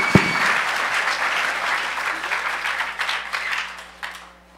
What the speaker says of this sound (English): Give him a huge round of applause right now